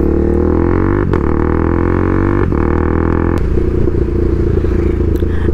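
A stage 2 tuned KTM Duke 390 motorcycle drones loudly and steadily while riding, with a few abrupt breaks in the tone as it shifts gears.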